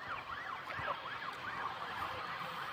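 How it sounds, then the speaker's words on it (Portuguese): Wailing ambulance siren sweeping up and down in pitch as the vehicle passes at a distance during a street protest, steady over background crowd and traffic noise, with no talking. "Olha a ambulância passando lá"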